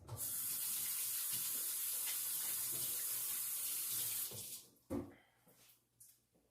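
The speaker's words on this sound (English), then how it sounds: "And wash my hands." Kitchen tap running steadily while someone washes their hands, a loud continuous water rush for about four seconds that then cuts off, followed by a few faint splashes and handling sounds, no talking.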